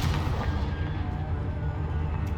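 A Confringo fire spell blasting in Hogwarts Legacy, a loud, dense burst of booming fire noise that holds steady for a couple of seconds, with no voices over it.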